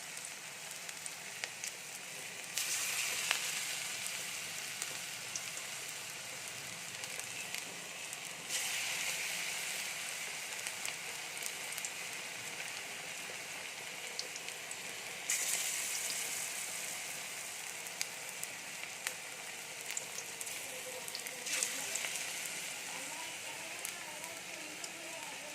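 Gima greens fritters (bora) sizzle in hot oil, a steady soft crackling fry that swells in several waves and goes on throughout.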